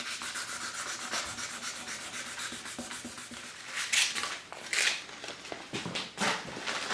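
An aluminum and resin honey dipper is sanded through grits from 180 to 800, close steady rubbing strokes with a few louder scratchy bursts.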